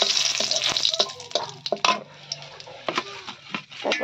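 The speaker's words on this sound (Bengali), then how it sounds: "এখন তেজপাতা ছেড়ে দিলাম" Bay leaves dropped into hot oil in a pan, a soft sizzle with scattered clinks and stirring knocks of a utensil against the pan, close and intermittent, no voices.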